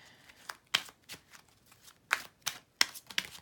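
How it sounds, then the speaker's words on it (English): Tarot cards being shuffled by hand, a series of crisp papery riffles and slaps in irregular bursts, close and fairly quiet, with no talking. "I don't know why I'm shuffling right now."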